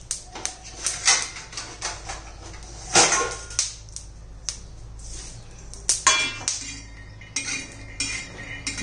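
Peanuts dry-roasted in a pan for a Marathi masala brinjal dish, heard as light clinks and scraping rattles of a spoon or spatula on the pan, irregular and close, with no talking.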